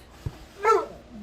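Benny, a pet dog, lets out a brief, soft whimper indoors, a single quiet whine rising and falling near the middle of a short, otherwise still moment.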